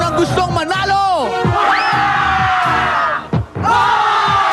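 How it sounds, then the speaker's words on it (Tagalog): A crowd of contestants backstage at a live TV variety show yells and whoops together, a loud, sustained, overlapping roar of many voices that surges twice. "Contestants, iparinig nyo ang sigaw ng gustong manalo!"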